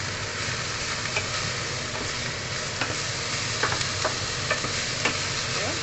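Noodles and pork being stirred in a hot pan, with a continuous loud sizzle and occasional scraping strokes of a utensil against the pan.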